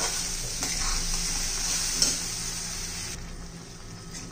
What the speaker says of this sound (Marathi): त्यात आपलं हे वाटण घालायचे. छान असं त्याला परतून घ्यायचंय चांगलं,